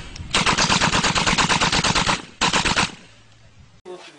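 Rapid bursts of gunfire, a long loud string of evenly spaced shots followed by a shorter burst and then quiet.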